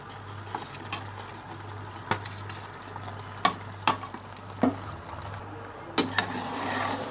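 Cooked macaroni in a pot is stirred with a utensil, producing intermittent scraping knocks against the metal over a steady low sizzle and hum, close up and without talk.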